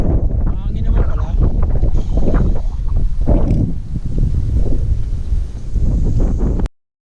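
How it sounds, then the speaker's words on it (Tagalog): Strong wind buffets the microphone in a constant low roar while people talk over it throughout, ending abruptly. "Mahangin naman pala."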